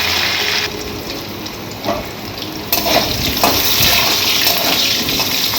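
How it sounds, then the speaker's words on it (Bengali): Potato pieces sizzle loudly in hot oil as they are flipped and stirred until browned, a steady close frying hiss broken by scraping turns, with no talking over it. "আলুগুলোকে ভালো করে লাল করে উল্টে পাল্টে ভেজে নিতে হবে।"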